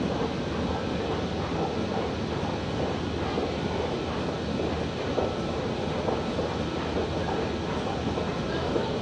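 A Washington DC Metro subway train rumbles steadily in a deep underground station, with rail clatter and clickety-clack throughout and no voices.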